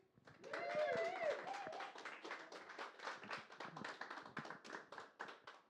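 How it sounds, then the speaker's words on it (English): Audience applause at a spoken-word performance event, moderate steady clapping that runs for several seconds, with a voice speaking over the start of it. "Please, everybody give a massive round of applause to"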